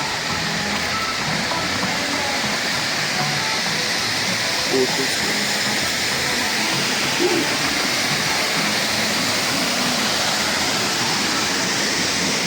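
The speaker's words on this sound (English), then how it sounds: "Show you the waterfalls." Steady, dense rushing water roars without a break, like a nearby waterfall, with faint voices now and then beneath the constant wash.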